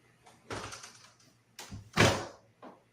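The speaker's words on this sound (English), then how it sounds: "Now pull on the door. I thought it was faulty." Door pulled during a haunted-house investigation, a few separate rattling knocks and thuds, the loudest a heavy bang near the middle, with quiet gaps between them.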